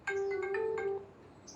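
A ringback tone sounds during an outgoing call, several steady chiming pulses at moderate level over a quiet background, with no talk.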